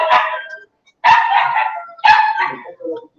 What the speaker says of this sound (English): Another dog. Where do these dogs come from?